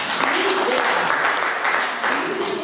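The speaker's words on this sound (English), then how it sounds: "I guess that really worth some applause." Steady audience applause at a community celebration gathering, dense clapping from many hands filling the room at an even level, with a voice briefly heard under it.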